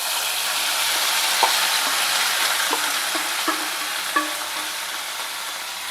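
Dal and curry leaves fry in a pan with a steady broadband sizzle, while a spoon scrapes and clinks against the pan a handful of times at close range.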